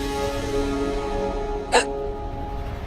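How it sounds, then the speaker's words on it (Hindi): A child's single loud hiccup pops out sharply and nearby over a steady indoor background hum, with no speech. "इतनी बड़ी बड़ी हिचकी।"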